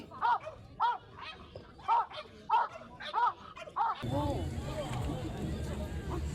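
Several sharp barks from Assam Rifles trained dogs performing at a show ring out at a steady pace, close by, then give way to a louder jumble of barking, voices and crowd noise.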